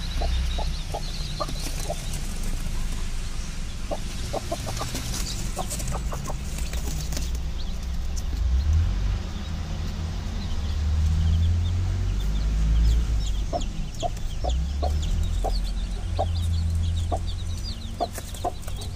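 A hen that has just hatched six chicks clucks repeatedly while foraging with them in the open, her short calls coming in irregular bursts over a steady outdoor background, with occasional wing flaps.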